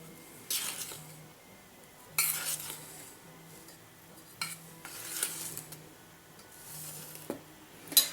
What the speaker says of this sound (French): On va ajouter dans la poudre d'amande les 310 g de sucre glace. On va les mélanger un peu.